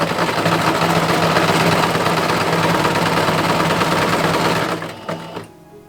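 A domestic sewing machine runs steadily at long stitch length, sewing two lines of basting stitches along the front and back collar of an 1890s chemise, a continuous loud whir that slows and stops near the end.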